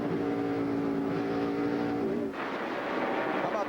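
NASCAR Cup stock cars racing under the lights at Bristol in 2003, a roaring, droning engine note that shifts pitch midway as the cars sweep through a corner, heard at moderate distance with no talk.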